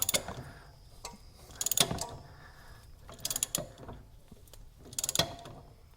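Ratchet tightening a strut bolt on a Mazda 3, several short bursts of quick clicking close by, separated by brief pauses.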